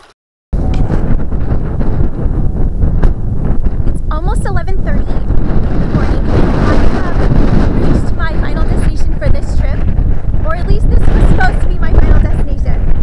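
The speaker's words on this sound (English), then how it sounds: "it is extremely windy" Heavy wind buffeting the microphone in a constant roar beside a stream in Sand to Snow National Monument, California, with rushing gusts and occasional voice-like bits mixed into the noise.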